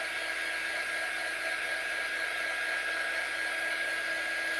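A hair dryer blows in a steady, high-pitched whir close by while drying a craft door tag, unbroken for several seconds.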